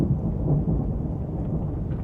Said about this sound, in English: I hear the sound of an abundance of rain.